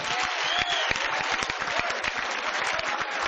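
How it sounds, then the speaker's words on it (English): Applause from the audience at a 1993 live music show, dense, continuous clapping from a large crowd that stays loud and even throughout. "So let's give them a round of applause."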